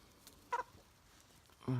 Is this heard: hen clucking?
yes